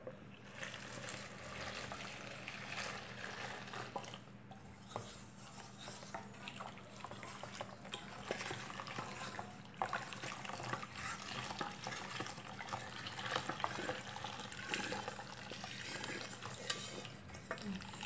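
Melted coconut soap mixture boils and bubbles in a pot, a faint continuous simmering churn with soft popping and occasional stirring scrapes, no talk over it.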